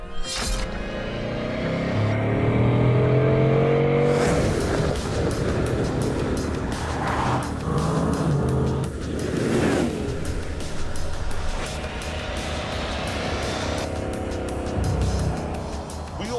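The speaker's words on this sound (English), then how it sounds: "It's an 8-litre monster with 16 cylinders and enough grunt to make kilometres feel like inches." The 8-litre, 16-cylinder engine of a Bugatti Chiron roars as it accelerates hard, rising in pitch through gear changes, then surges and fades in passing bursts with wind rush.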